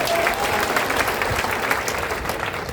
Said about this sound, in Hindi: लेकिन 5 आदमी ताली बजाता है।